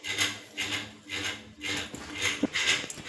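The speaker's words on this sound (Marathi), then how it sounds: "आता आपण हे हळूहळू मिश्रण छानपैकी मिक्स करून घ्यायचं" Potato masala vadi mixture seasoned with lemon being stirred and mixed by hand or spoon in a bowl, giving repeated rhythmic scraping and rubbing strokes, about six close passes with no talking.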